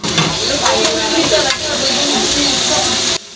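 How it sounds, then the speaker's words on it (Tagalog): Red chili labuyo hits hot oil in a pan while cooking snails in coconut milk, giving a loud, steady sizzle and hiss with stirring scrapes, close up, cutting off abruptly at the end. "Ngayon po ay ilagay na po natin ang ating red chili o labuyo."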